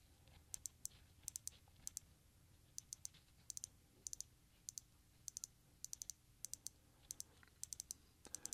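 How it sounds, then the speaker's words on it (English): A watch crown clicks crisply as it is turned, short bursts of tiny ratcheting clicks in irregular clusters, close and quiet against a soft background hiss. "it makes a little clicking sound when we rotate it"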